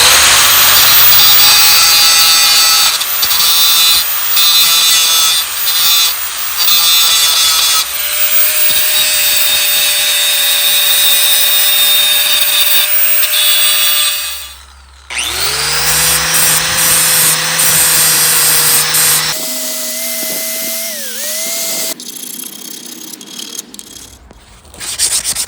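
A power tool grinds and touches up the keyway on a welded, repaired crankshaft of a 22 hp Briggs & Stratton engine, loud and close, in several bursts with shifting pitch and brief pauses.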